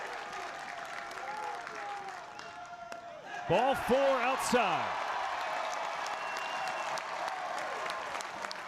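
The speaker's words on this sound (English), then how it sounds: "Probably never be a louder applause for a walk in Clark LeClair Stadium." Stadium crowd at a college baseball game at Clark LeClair Stadium, East Carolina, applauding a walk, a broad sustained roar of cheering and clapping under a play-by-play announcer's voice and a brief burst of sound midway.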